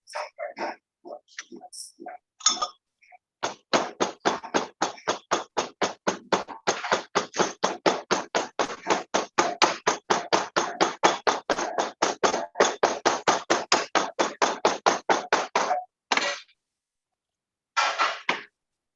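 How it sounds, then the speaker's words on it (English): A long steady run of sharp, rapid taps as a hammer compresses casting sand in a mold, with a few scattered knocks before and after. "then you can compress it with the hammer"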